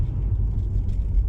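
Inside a Tesla car driving along on a sunny day: a steady, loud low road rumble with faint rattles throughout, no voices.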